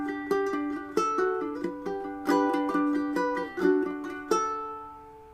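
Ode to Joy is plucked fingerstyle on a ukulele as a short melodic phrase of about seven clear, ringing notes at a moderate pace. The instrument is close and alone, and the final note decays gently.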